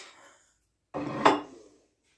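Plates and cups clink together in one short clatter, with ceramic pieces knocking close by and briefly, then silence.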